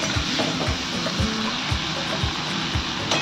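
Dried chili, green chili, onion and garlic fry in hot oil with a steady sizzle and soft crackles, close and continuous, no talking.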